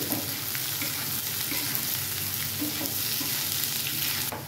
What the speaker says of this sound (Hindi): हम डाल देंगे इसमें मूंग, अंकुरित मूंग है जो हम फुला के रखे थे